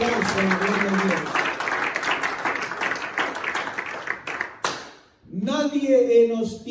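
Congregation applause during a church service, with many hands clapping under a sustained voice; the clapping thins out, there is a short pause, and then a voice speaks again.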